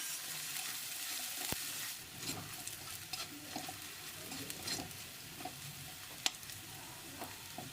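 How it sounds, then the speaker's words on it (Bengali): Chopped onions fry toward light brown in a pan for a fish-head mung dal, a soft continuous sizzle broken by occasional stirring scrapes and a couple of sharp clinks, fairly quiet and close. "এখন এতে দিয়ে দিচ্ছি পেঁয়াজ কুচি। পেঁয়াজগুলিকে হালকা ব্রাউন করে ভেজে নেব।"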